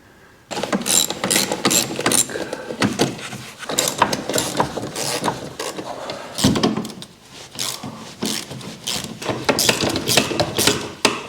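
Hand tools working on the anti-roll bar of a BMW E46 330ci underneath the car: repeated metallic clanks, ratchet clicks and knocks in irregular bursts, close and fairly loud, with no talking.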